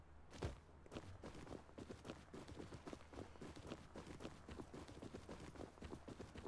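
A horse walking in the survival game Rust, its hooves making a steady, rhythmic clip-clop of faint footfalls that continues throughout without any talking.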